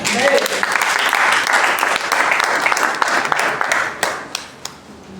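A church congregation claps and applauds loudly and continuously. The applause fades slightly near the end.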